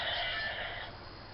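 Legacy Dragon Dagger toy electronic sound effect, a bright, buzzy, band-limited burst played close through a small speaker, sounding whinny-like and fading slightly over about a second, with no talking.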